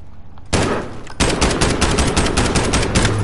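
A SCAR rifle fires in Call of Duty Warzone, loud close automatic bursts starting abruptly and continuing as rapid repeated shots to the end.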